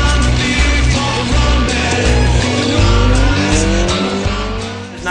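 A motorcycle turns around on a mountain highway, its engine droning loudly and close with rising and falling pitch as it slows and pulls away, over steady wind rush.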